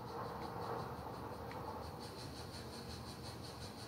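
A faint, steady New Jersey Transit train in a video game rumbles past with soft rhythmic clicking, distant and low throughout.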